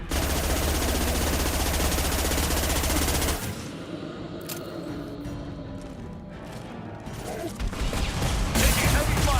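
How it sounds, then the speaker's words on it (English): Heavy sustained gunfire in Mass Effect 2, a dense, loud stream of automatic shots that continues without letup, easing slightly midway then swelling again. "Taking heavy fire!"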